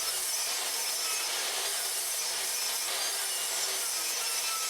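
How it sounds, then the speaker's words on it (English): A saw rips through 3/4 inch plywood in one continuous, loud, steady cut with a bright, gritty rasp and no talking. "First I ripped some 3/4 inch plywood to build the walls and shelves."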